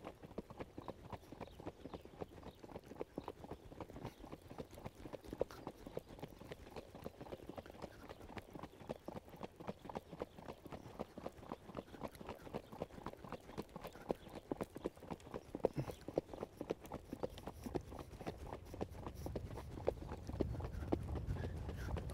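Hooves of a ridden horse clip-clop in a steady, quick rhythm throughout the whole stretch, fairly faint and even, as the horse is ridden forward from the saddle.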